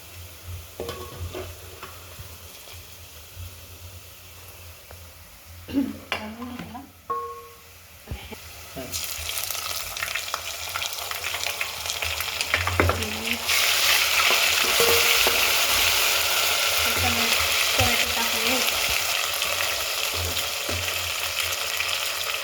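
Onion and tomato frying in oil for egg biryani, quiet at first with a few knocks and clatters, then a loud, dense sizzle that swells and holds steady, close by, with a voice briefly heard early on.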